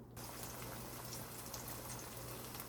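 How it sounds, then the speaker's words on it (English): A covered pot of Jamaican Ital vegetarian stew peas with dumplings bubbling steadily on the stove, a constant close simmering hiss with a low hum beneath it and no voices. "the pot is bubbling and the dumpling is cooked"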